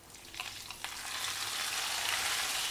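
Hot mint sauce poured onto a pot of soup, giving a steady broadband sizzle that swells and holds at close range, with a few sharp crackles early on and no talking.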